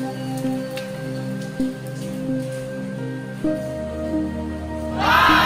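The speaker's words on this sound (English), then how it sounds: "It's raining, but not too heavy." Light rain falls steadily on a roof, a soft continuous patter over a low hum that swells into a louder wash of drops near the end.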